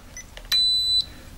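An electrical multifunction tester used for ring final circuit testing gives one loud, steady electronic beep of about half a second after its test button is pressed, alone against faint background hiss.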